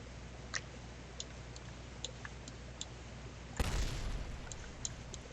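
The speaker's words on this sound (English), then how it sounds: "We have pieces that are exploding." Rocket debris blows apart in Kerbal Space Program: one sudden loud burst of explosion followed by a lingering rumble, set against a faint steady ticking.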